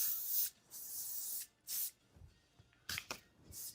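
Moroccanoil heat protectant sprayed onto Burmese hair, several short close hissing bursts in quick succession with faint handling noise between them.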